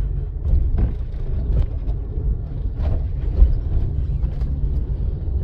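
Slow traffic on the Costera in Acapulco: a steady low rumble of car engines crawling along a busy coastal avenue, with a few passing swells and no voices.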